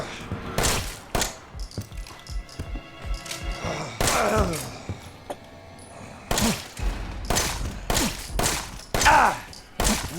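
Gunshots in the video game Resident Evil 7, several sharp loud bangs with ringing tails spread unevenly across the stretch, mixed with thuds and game ambience.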